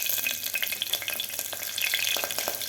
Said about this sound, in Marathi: जिरे व्यवस्थित आपल्याला फ्राय करून घ्यायचे आहेत